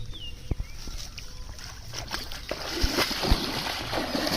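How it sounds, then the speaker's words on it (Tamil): Splashing as someone wades through shallow water while fishing, with a few sharp splashes and sloshes over a steady wet background, fairly close. "தண்ணிக்குள்ளே சலப்பு நடக்காதீங்கன்றா நான் இப்போ ஒரு உதாரணத்து காட்டுறீங்க."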